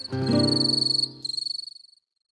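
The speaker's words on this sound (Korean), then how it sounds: "아마 우리 인류가 처음 지구 위를 걷는 순간부터 귀뚜라미 소리를 들었을 겁니다" Crickets chirp in a natural habitat, giving steady, rapid pulsed trills in two close bursts separated by a short gap, clear and fairly near, with no talking.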